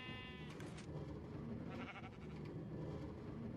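Sheep in a Minecraft wool farm giving short bleats, a couple of quavering calls over a steady background hum, fairly faint and with no talking.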